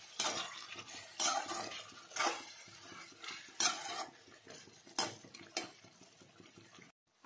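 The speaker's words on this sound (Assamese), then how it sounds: "আৰু এইখিনিও মাজে মাজে লৰাই থাকিব" A spatula scrapes and clinks against a pan as duck meat fries, with irregular strokes every second or so at moderate volume and a soft sizzle underneath.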